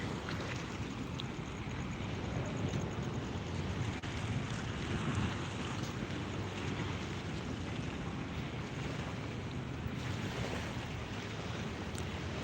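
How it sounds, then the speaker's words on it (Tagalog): Sea waves and wind by the water at night near city buildings, a continuous broad wash of surf and gusting wind noise, steady and fairly close, with no voices. "You heard the sound of the sea?"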